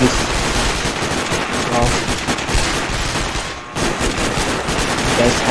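A shotgun firing in Sniper Ghost Warrior: loud, rapid bursts of gunfire crowd the whole stretch with only a brief lull midway, and a man exclaims once over the shooting.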